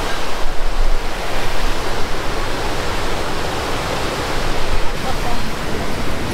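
A steady, loud rush of falling water from a waterfall in Idaho fills the scene, a broad continuous roar with no pauses.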